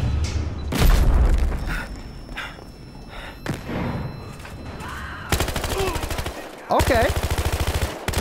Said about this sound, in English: I hear people shooting me.